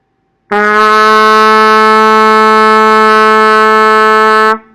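A single sustained trumpet note, B below the staff, held steady for about four seconds, clear and bright, played alone.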